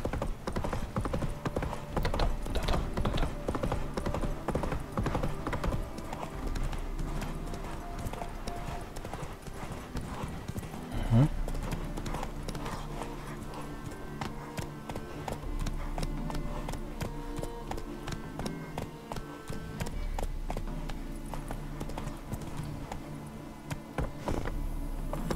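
Horse hooves pound in a steady galloping clip-clop while riding in The Witcher 3, continuous and close throughout, with a brief whinny near the middle and a voice talking in German over the hoofbeats.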